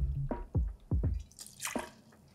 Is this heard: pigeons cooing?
no